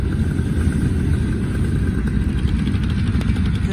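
A paramotor engine on a solo pilot's rig runs at a steady idle, a loud close continuous rumbling buzz with faint clatter, no talking.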